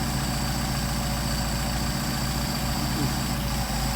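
A Mercedes 190SL engine on Solex 44PHH carburetors idles steadily at about 700 RPM, a continuous low, even rumble with a regular pulse, close and alone without talk.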